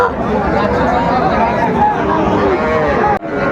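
Cattle at the Raniganj haat livestock market in Dinajpur, young bulls and heifer calves among a loud crowd, with steady nearby chatter and babble filling the scene and animal sounds mixed in.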